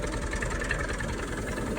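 Tractor 240 engine chugging in low gear without added throttle while pulling a sprayer, a steady, loud, low diesel drone with a regular pulsing beat close by, continuous and without talk.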